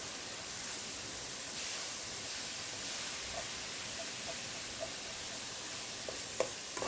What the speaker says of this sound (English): So just kind of saute this for about 2 to 3 minutes.